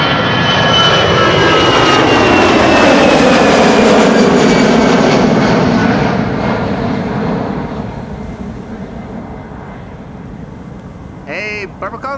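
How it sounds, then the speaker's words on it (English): An EasyJet airliner departs Amsterdam Schiphol for Bristol, its loud jet roar filling the opening seconds and then slowly fading into the distance, with a brief voice near the end. "This is EasyJet flight 22922 to Bristol"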